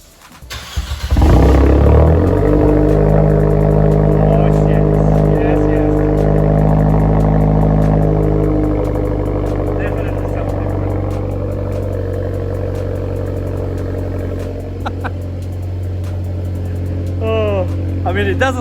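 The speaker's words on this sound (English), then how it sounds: "That's an official cold start in a 32 degrees weather." A Nissan Juke Nismo RS with a two-tip exhaust cold starts in freezing 32-degree weather, catching with a loud burst and settling into a steady, throaty high idle close by, with speech partly over it.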